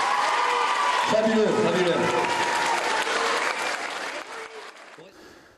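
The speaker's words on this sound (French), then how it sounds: "Vos applaudissements." Audience applause fills a local gathering, loud sustained clapping that fades out near the end, with a voice speaking over the start.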